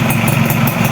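A Yamaha F1ZR motorcycle with a stock engine and a KNZ carburetor idles steadily nearby, a loud, even, buzzing two-stroke drone with no voices.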